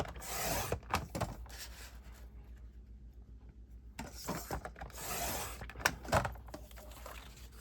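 Paper sliced on a Creative Memories trimmer for scrapbooking, heard as two short rasping blade passes separated by a quiet pause, close and fairly soft, with no talking.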